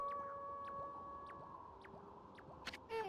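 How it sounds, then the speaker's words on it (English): A wolf howls in the video game Okami, a long wavering tonal cry with sliding pitch layered over ambient game music, moderately faint and alone without talk. "What about that dramatically timed wolf howl?"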